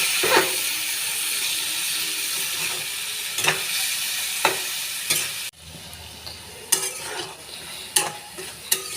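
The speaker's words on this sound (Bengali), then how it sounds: "মশলাটা ভালো করে কষিয়ে নিয়েছি, কষানো হয়ে গেছে।" Spices and okra sauté in a pan with a dense close sizzle, and a spatula scrapes and clacks against the metal. The sizzle quiets partway through while the scraping strikes continue.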